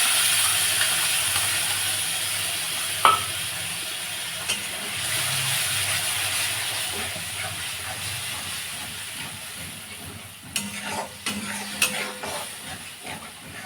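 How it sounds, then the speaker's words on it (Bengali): Spice paste fries in oil in a pan, a continuous soft sizzling hiss, with scraping stirs and clatters toward the end. "তেল ছাড়া পর্যন্ত মশলাটা কষিয়ে নেব"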